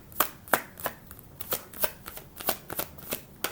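A tarot card deck being shuffled by hand, about a dozen quick riffling bursts in a steady rhythm, close and distinct, with no voices.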